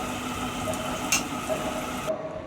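Meat being stir-fried (kosha) in a pan, a short burst of steady sizzling and moist squishing with a brief louder scrape near the middle, no talk.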